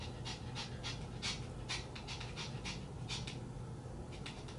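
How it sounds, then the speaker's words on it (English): A female dog pants close by in quick, steady breathy bursts that repeat throughout, with no talking over it. "Nice dog here, huh?"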